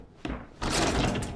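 A door in the Resident Evil 7 mansion gives a brief bump, then swings open or shuts with a loud, full thud. A low rumble follows and lingers under it.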